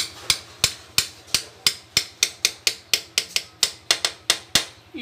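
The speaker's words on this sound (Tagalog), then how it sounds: "pukpok muna natin to" Repeated sharp hammer blows tap a timing gear into place on an engine, about sixteen crisp metallic strikes at a steady, slightly uneven rhythm, close and clear over a faint low hum.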